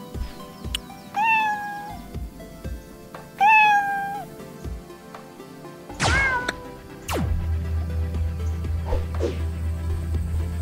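Kitten meowing in the video game Mariposa and the Galaxy Man, several clear high meows in quick pairs, followed by a sharp thwack and a steady low game hum.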